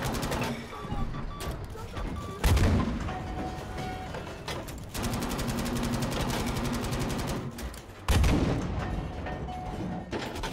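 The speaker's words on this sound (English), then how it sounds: "let's give them a couple of shells" Tank cannon shells fired in Battlefield V from a Tiger tank, two heavy booms punching through dense, continuous battle noise and rapid gunfire throughout.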